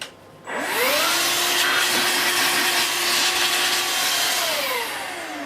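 A Vax Air Cordless Handheld H85 20V bagless vacuum cleaner switches on after a brief quiet moment and runs steadily at full suction, a loud close whining motor hum that holds for several seconds before easing slightly at the end.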